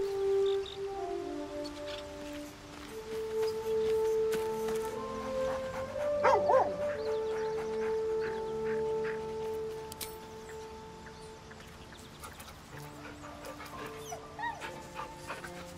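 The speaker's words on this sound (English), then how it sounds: "You can pet the dog in Baldur's Gate 3." A dog in Baldur's Gate 3 barks and whimpers quietly, soft yips and whines rising over a sustained musical game score with tonal notes, the animal sounds fairly faint and intermittent.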